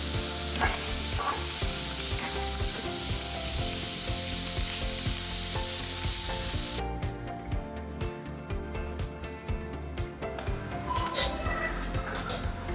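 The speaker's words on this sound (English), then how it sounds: "so we sizzled our asparagus over here" Asparagus sizzles steadily in butter in a frying pan, a continuous close crackle with occasional stirring scrapes, with no talk over it.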